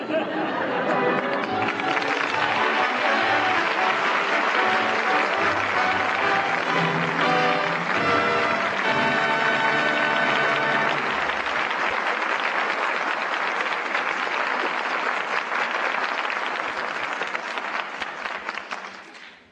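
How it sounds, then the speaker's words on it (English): A studio audience breaks into loud, dense applause as the curtain falls on a 1949 radio comedy play, holding steady before thinning and fading out at the end, with a little chatter mixed in. "that well-deserved applause calls back our stars"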